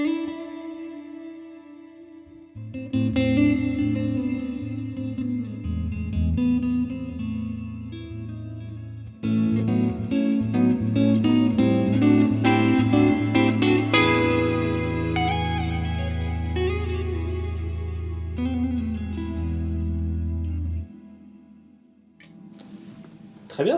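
An electric guitar played through a Flamma reverb pedal with the high cut engaged, sustained chords and single notes blooming into a long, washy tail that lingers and fades after the playing stops.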